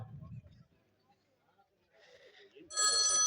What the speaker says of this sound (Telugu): హుసై, నీ యొక్క ఫోనా?